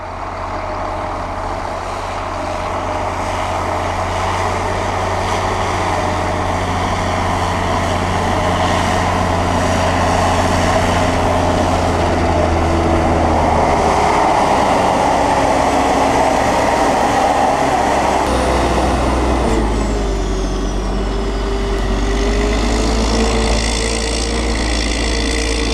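A Pistenbully 300 Polar W snow groomer with a 430 hp engine and winch works a ski slope, its heavy engine droning loud and close, rising in strain midway with a faint beeping tone, no voices.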